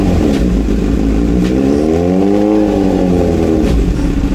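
A Kawasaki Z900 motorcycle with water trapped in its exhaust revs loudly up and back down, the engine note rising and falling in a single sustained swell, close and alone.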